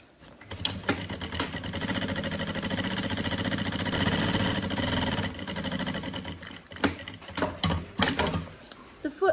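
A sewing machine runs through a lining seam on a bunny-shaped backpack. There is one long, steady burst of stitching in the middle, with short bursts and handling clatter before and after.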